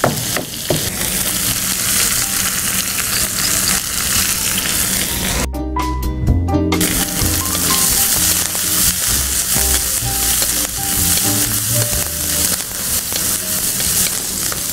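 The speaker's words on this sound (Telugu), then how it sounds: "నేను వెల్లుల్లి వేస్తున్నాను" Garlic frying in a hot pan for a ridge gourd and coconut milk curry, giving loud, continuous sizzling and crackling with stirring scrapes; the sizzle cuts out abruptly for about a second before resuming.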